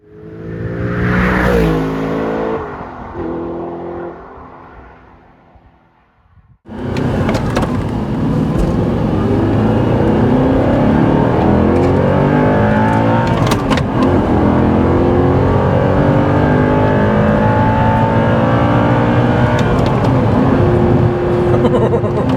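A powerful Audi R8 V8 engine idles and revs, then roars hard under acceleration, loud and close, its pitch rising through the gears.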